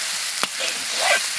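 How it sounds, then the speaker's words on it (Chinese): Oil sizzles steadily in a wok as vermicelli is stir-fried with scallion, ginger, garlic and dried chili, with a sharp clack of a spatula and scraping stirs over the hiss, close and fairly loud. "下入葱姜蒜干辣椒，料头炒香以后下入粉条"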